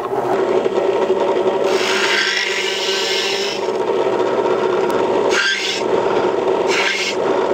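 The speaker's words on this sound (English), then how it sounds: "I have a plug cutting bit mounted in the drill press here" A loud, steady grinding whir of a plug cutting bit in a drill press boring into wood, with rising squeals and brief dips as the cut eases off and restarts.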